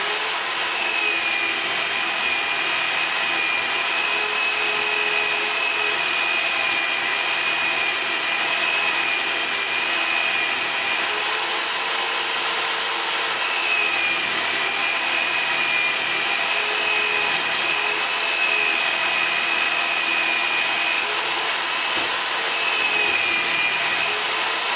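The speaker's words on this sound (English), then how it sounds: "So I'm going to use my flap sander here," A flap sander smooths a scroll-sawn wooden hammer, giving a loud, steady, high-pitched abrasive whine with a constant motor drone that runs unbroken and without speech.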